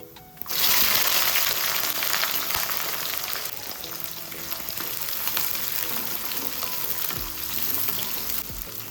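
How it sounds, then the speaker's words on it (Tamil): Chopped small shallot onions sizzle and fry steadily in hot oil with whole spices in a home kitchen pot, a continuous close, loud crackling hiss with occasional stirring clinks, no talking. "வெங்காயம் வதங்கட்டும்"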